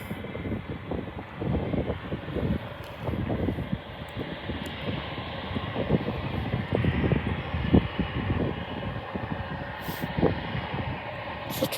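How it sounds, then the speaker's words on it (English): A Boeing 787 taking off at Birmingham airport, a broad continuous jet engine roar with gusty wind buffeting the microphone, heard from a spotting position at moderate distance, no voices. "We're gonna get the 787 takeoff."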